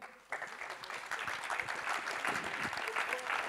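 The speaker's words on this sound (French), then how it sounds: "on peut les applaudir" Audience applause for round-table speakers on energy transition, starting abruptly and holding as a full, steady clapping from a seated crowd.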